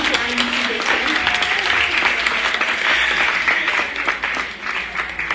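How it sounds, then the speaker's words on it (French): An audience at the Miss World Haiti grand final applauds Haïti Déco, a thick, loud wave of clapping with crowd noise and voices mixed in, sustained and lively. "un grand applaudissement pour Haïti Déco"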